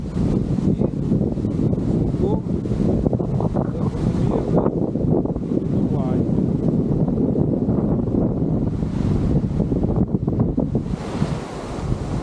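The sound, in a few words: strong wind and surging water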